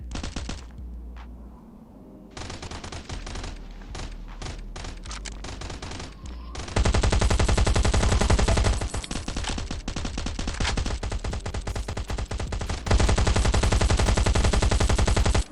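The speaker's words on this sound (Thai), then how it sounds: "โอ้ยิงบ้องมาแล้วเนี่ย" Gunfire in the survival video game Last Island of Survival comes in loud, sustained bursts of rapid automatic fire with brief gaps between them. It grows denser and more intense toward the end.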